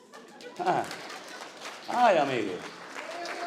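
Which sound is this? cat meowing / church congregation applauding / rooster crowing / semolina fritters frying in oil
church congregation applauding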